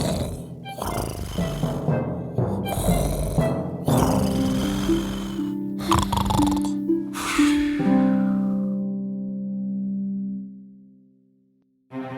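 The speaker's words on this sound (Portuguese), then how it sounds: "E então ele começou a roncar para enganar as princesas." Cartoon young man snoring loudly in a few drawn-out, rasping snores, close up and alone, the last one trailing into a long held drone.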